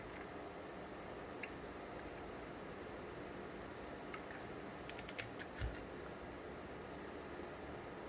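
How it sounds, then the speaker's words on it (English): Ratchet loading key turned on a Mythical drum magazine, a quick cluster of three or four crisp clicks midway through, faint against steady background hiss. "Click the ratchet loading key 3 times."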